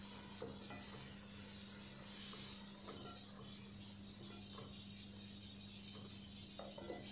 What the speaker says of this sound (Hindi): अदरक लहसुन को इसका कच्चापन ख़त्म होने तक फ्राई कर लेंगे।